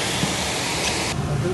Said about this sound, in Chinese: 你看這個瀑布